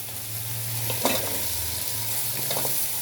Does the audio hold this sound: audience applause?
no